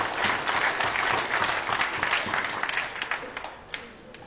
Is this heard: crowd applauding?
yes